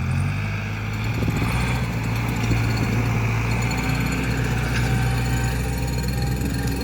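A new tractor's engine drones steadily at a low pitch, rumbling close by without pause while pulling a seeder during spring sowing.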